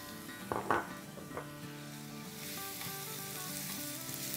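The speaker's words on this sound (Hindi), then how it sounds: "इसे हमें सॉटे करना है, ब्राउन नहीं करना है, थोड़ा सा सॉफ्ट टाइप का कर देना है।" Chopped onion sautés in a pan, soft sizzling throughout with a few utensil clinks and stirring scrapes near the start.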